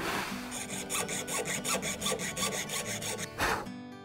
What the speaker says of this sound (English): I'm sawing a little circle to give me a little room to turn that blade around